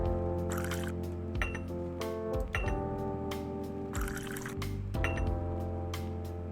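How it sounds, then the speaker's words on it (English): Water poured from a pot into a coffee machine in the Zipp's Cafe video game, a steady liquid fill with drip-like clicks and game music underneath, fairly quiet. "Now grab the pot and pour the water into the coffee machine."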